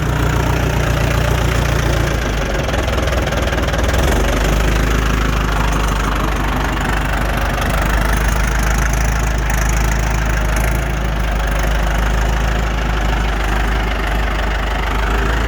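A single-axle 6600 truck's engine runs loud and close, a steady, dense mechanical rumble that holds throughout with no talk.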